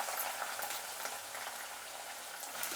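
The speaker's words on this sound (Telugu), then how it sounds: "ఇదే ఆయిల్లోనే దొండకాయ ఫ్రై చేసుకుందామండి." Ivy gourd (tindora) frying in hot oil, a steady soft crackle and bubbling that holds close and continuous throughout without any voices.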